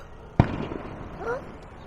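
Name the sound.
fireworks popping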